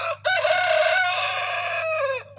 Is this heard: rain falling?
no